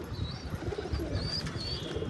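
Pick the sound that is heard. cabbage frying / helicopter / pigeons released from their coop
pigeons released from their coop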